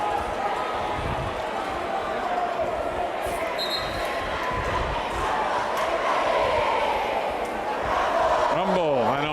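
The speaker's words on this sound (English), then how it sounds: "they are going to lead the mob in a cheer" A high school boys basketball crowd chants along with cheerleaders in a gym, a steady roar of massed voices with faint shoes and bounces underneath, and a short whistle-like warble near the end.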